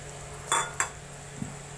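Stirring crab curry with ginger garlic paste in a pan: two short scraping clinks of a utensil against the pan over a faint steady sizzle, with a soft knock later.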